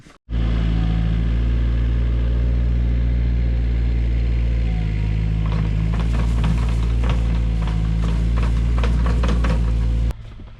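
A digger runs on a farm driveway under construction in central Portugal, its engine starting abruptly and holding a loud, steady rumble, with clanking and rattling bursts in the second half before it cuts off.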